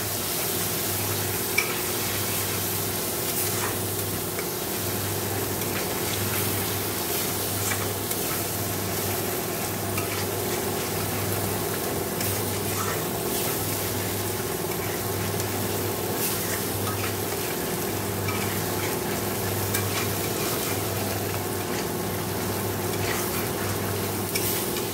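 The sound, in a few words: sautéing spices with cumin, black cumin, dried chilli in pan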